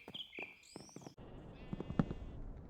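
Sheep bleating in the video game Minecraft, a couple of short wavering cries near the start, followed by softer shuffling game noise.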